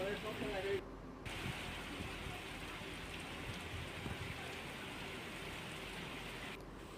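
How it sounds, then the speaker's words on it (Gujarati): Unseasonal rain falls steadily in Bhanvad, Gujarat, a continuous even hiss of drops striking surfaces with no distinct thunder, and a few brief cuts in the sound. "ભાણવડમાં ગાજવીજ સાથે કમોસમી વરસાદ થયો."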